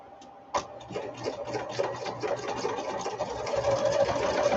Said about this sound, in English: See how easy that bigger needle just cuts through that vinyl, just like you're sewing through cotton